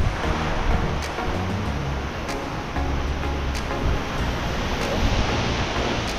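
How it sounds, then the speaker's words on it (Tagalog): Strong typhoon Uwan wind roars with surging waves on Burias Island, a loud dense rushing wash with buffeting against the microphone throughout. "Lakas ng hangin."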